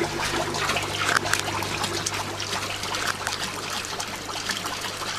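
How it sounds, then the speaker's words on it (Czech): In the settling tank of a TP-8EO household wastewater treatment plant for eight people, an aeration pipe bubbles fine bubbles at the surface, a steady close trickling and gurgling with no voices. "aby prozdušňovací trubka hladiny dosedací komory vytvářela jemné bublinky"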